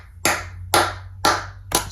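Four separate hand claps from a short recorded bar, evenly spaced about half a second apart, crisp and close, with a low steady hum underneath.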